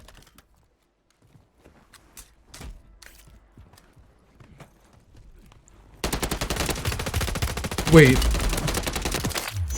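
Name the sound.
gunfire in the video game Call of Duty Warzone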